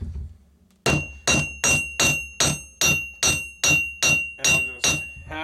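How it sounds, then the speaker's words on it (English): A hammer closes a metal ferrule on coyote snare wire, striking ten evenly spaced, ringing metallic blows that each decay before the next, close and clear. "I'll just hammer it closed"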